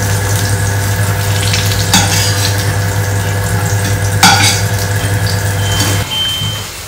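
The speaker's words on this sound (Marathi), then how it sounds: "तर इथे झुकिनी मस्त फ्राय होते आणि एवढी फ्राय झालेली आहे" Zucchini frying in a pan, giving a loud, continuous close-up sizzle with a steady hum beneath and a couple of brief stirring clatters, the sizzle easing near the end.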